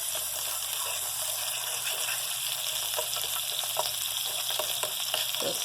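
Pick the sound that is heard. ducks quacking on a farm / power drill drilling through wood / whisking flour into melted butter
whisking flour into melted butter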